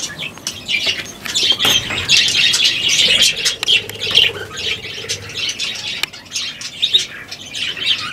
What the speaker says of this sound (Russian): Слышите, птенцы?